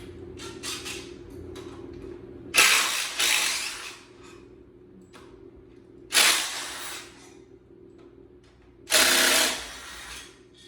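A ratchet wrench with a 17 mm socket works on parts of a 1992 Honda Civic Si. It gives three separate bursts of quick clicking ratchet strokes, close and clear, with quiet gaps between them.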